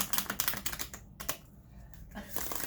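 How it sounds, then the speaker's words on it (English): A deck of tarot cards is shuffled by hand, giving dense bursts of quick crisp clicks and riffles with a short lull in the middle, close up. "I'm doing my best to shuffle the cards, to mix up the cards"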